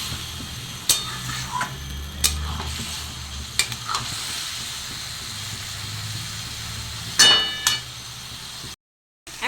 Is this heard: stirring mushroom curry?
yes